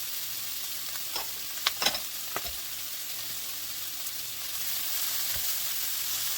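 Vegetables and ham sautéing in melted butter in a pan for an omelet, a soft steady sizzle broken by a few sharp crackles and a utensil tap or two, with no talk.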